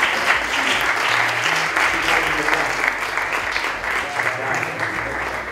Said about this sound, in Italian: Lo accoglierei con un applauso